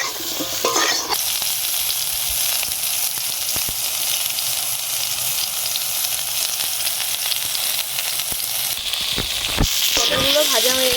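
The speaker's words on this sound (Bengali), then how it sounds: "শুধু হলুদ দিয়েই কালারটা সুন্দর রাখার জন্য ভেজে নিচ্ছি।" Sliced pointed gourd fries in hot oil with turmeric in a pan, giving a loud, steady sizzle throughout, with occasional scrapes and clinks of stirring near the end.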